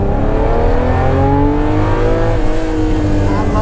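A Ferrari Testarossa engine revs loudly from close by, its layered harmonic tone rising and shifting through a sustained pull as the car drives on a twisty mountain road.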